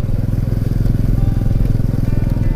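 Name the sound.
underbone motorcycle riding over a rocky road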